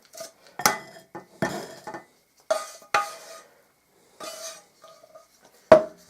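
Utensil clinks and scrapes against a bowl as melted ingredients are mixed into flour for brownies, a series of sharp, separate knocks and short scraping strokes with quiet pauses between them.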